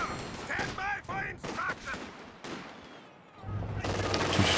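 Machine gun and other gunfire in the video game Company of Heroes 2, with sharp bursts of shots early, then a quieter stretch before a louder sustained rumble of battle noise.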